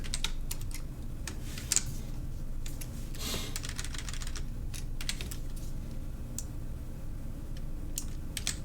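Continuous typing on a computer keyboard, rapid and fairly close, with irregular bursts of key clicks and a few louder taps over a low room hum, with no talking.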